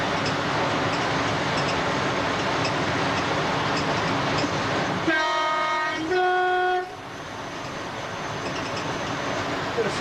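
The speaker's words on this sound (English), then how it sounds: "So it always pays to sound the horn." A class 319 electric train rumbles steadily from inside the cab, then sounds its two-tone horn in two short blasts near the middle before the running noise carries on.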